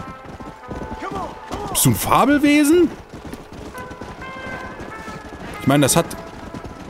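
A horse clip-clops and runs in the Red Dead Redemption: Undead Nightmare game while someone talks loudly over it, with a burst of gunfire and shouting in between.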